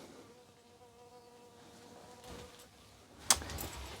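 Indoors near an open window, a bee hums on and off, fading and returning as it flies, ending with a short sharp clatter and a brief louder burst.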